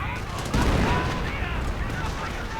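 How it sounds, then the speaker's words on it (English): A heavy machine gun fires in a WWII real-time strategy video game, rattling bursts mixed with booming explosions and battle noise, a steady dense din with a louder swell partway through. "opens up on the heavy machine gun, I imagine."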